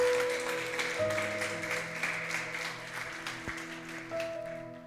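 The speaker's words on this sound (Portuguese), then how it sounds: "Você pode aplaudir o nome do Senhor?" Church congregation clapping during a service, a steady spread of applause under sustained organ or keyboard tones, moderately distant.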